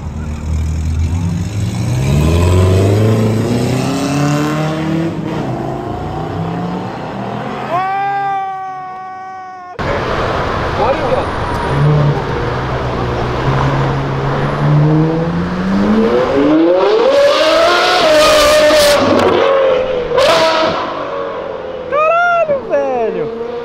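A car in a São Paulo street race revs hard in rising and falling sweeps, with sharp squealing skids near the end, loud and close, with bursts of crowd noise around it.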